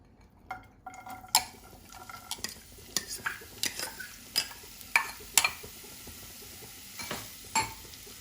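Onions dropped into hot vegetable oil in a pan for palak paneer, a soft sizzle under repeated metal clinks and scrapes of stirring at close range.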